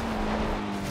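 A rough-sounding car engine in the racing game Forza Horizon 2 holds a constant, even drone for a brief moment, with a loud, steady wash of noise around it.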